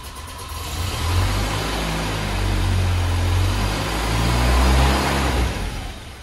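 A Land Rover Series 3 engine idles unevenly just after restarting, following recent PCV valve work, with a deep throbbing low rumble that swells and eases in loose pulses, close and steady throughout with no talking.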